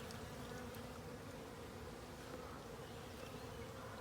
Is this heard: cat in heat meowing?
no